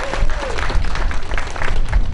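A crowd in a room gives a round of applause, a dense, steady wash of clapping hands at close range.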